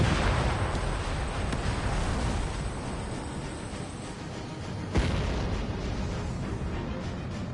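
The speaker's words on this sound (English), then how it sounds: "Missile away." Missile launches and explosions in the combat flight game Ace Combat 7 rumble as a dense, continuous roar, with a sharp burst near the middle and steady booming throughout.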